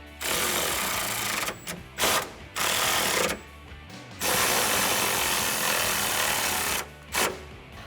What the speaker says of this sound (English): Grab your 14 millimeter socket to tighten it down.